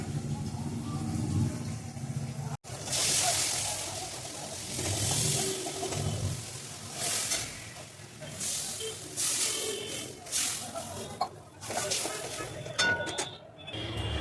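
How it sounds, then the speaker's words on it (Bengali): Fish curry broth boils vigorously in a pot on a home stove, a loud, continuous bubbling hiss that surges and fades, with a brief clink partway through. "ঝোলটা ভালো করে ফুটে গিয়েছে"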